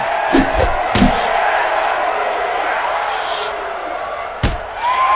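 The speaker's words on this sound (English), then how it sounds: "And the crowd is making noise yet again" Steady crowd roar from a wrestling video game fills the scene, punctuated by a few sharp slams and impacts from the match, with the noise holding at a constant level throughout.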